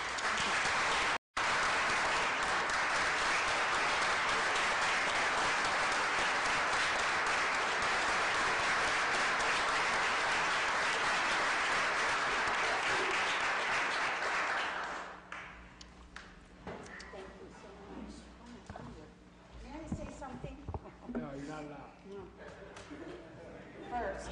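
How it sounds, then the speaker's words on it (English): A round of applause fills the Akron city council chamber, strong and steady for about fifteen seconds, then stops abruptly as a person begins speaking amid faint room noise. "join me in a round of applause, please"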